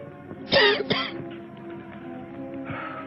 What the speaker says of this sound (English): Now cough again.